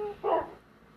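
A single short bark from a dog in a video game, moderately loud and brief, followed by quiet.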